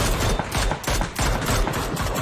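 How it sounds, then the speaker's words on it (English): Dense, continuous gunfire in PUBG during a pro scrim match, overlapping rapid bursts from several weapons crackling loudly and nearly without pause. "A lot of bullets flying."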